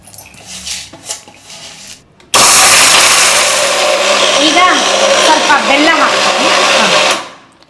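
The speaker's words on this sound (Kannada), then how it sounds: "ಎಲ್ಲ ಒಟ್ಟಿಗೆ ಮಿಕ್ಸಿ ಮಾಡಿ ಎಸ್ ಎಸ್ ಎಲ್ಲ ಹಾಕ್ಬಿಡ್ತೀನಿ" Mixer grinder blitzing chutney powder ingredients, a loud, close whirring roar that starts suddenly after a few seconds of faint kitchen sounds and runs steadily before winding down at the end.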